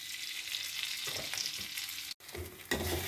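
Garam masala sizzles and is stirred in hot butter and oil, a close crackling fry with scraping and clatter from stirring and a short break before the sizzle returns louder.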